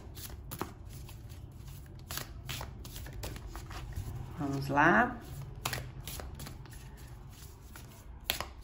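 A deck of cards is shuffled by hand, giving sharp, quick riffling taps spread through the clip, with one longer riffle in the middle, while someone speaks softly over it.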